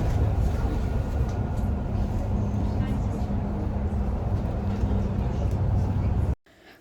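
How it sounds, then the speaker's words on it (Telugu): A city bus in Germany pulls up at a stop, with a loud, steady low engine rumble and road noise that runs on for several seconds and then cuts off abruptly. Someone talks over it. "సో చూసారు కదా, రాగానే అలా బస్సు వచ్చింది"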